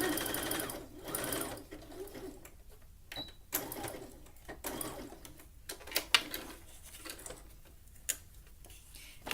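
Sewing machine running in short bursts, stitching elastic into a tankini swimsuit, a steady mechanical whir that starts and stops repeatedly with brief pauses between runs.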